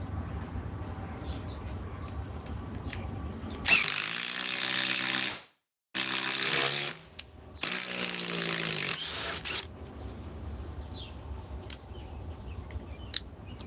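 Power tool whirring on a Bosch battery, running in loud bursts of a few seconds each with brief stops between them, surrounded by quieter clicking and handling noises.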